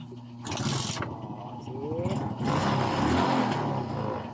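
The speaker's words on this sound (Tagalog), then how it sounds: "Paandarin na natin na walang battery." A Suzuki Smash 115 motorcycle being started without a battery, the engine catching and running with a mid-pitched idle that swells louder toward the end, a voice talking over parts of it.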